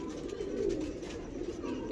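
Breeder pigeons cooing in a loft, a soft continuous low burbling with faint background noise.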